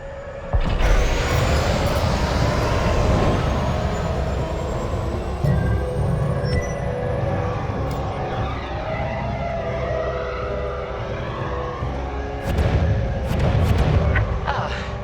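Starfighter engines throttle up and roar out of a hangar in Star Wars Squadrons, a loud sustained rumbling whoosh with a rising tone and a few heavier surges near the start and toward the end.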